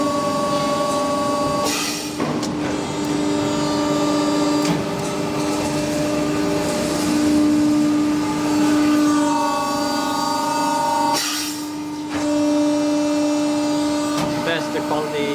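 A Preda 300T 3200mm hydraulic press brake runs with a steady, close mechanical hum and layered tonal whine, with brief louder surges near the start and end.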